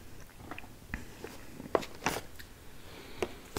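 Close, crisp crunching and chewing of Churros Cinnamon Toast Crunch cereal in an ASMR eating session, irregular bites and crackles spread across a quiet background.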